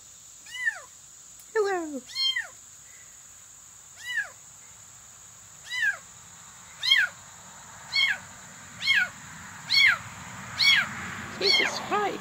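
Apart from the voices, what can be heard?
cat yelling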